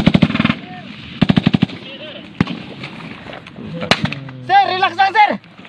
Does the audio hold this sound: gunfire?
yes